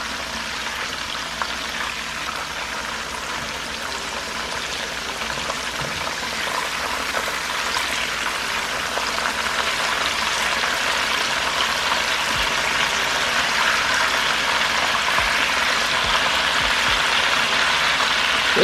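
Pork chops with onions fry in grease for a Chicago-style street-food sandwich, giving a steady, dense sizzle that swells slightly louder partway through and runs on without pause and without talk.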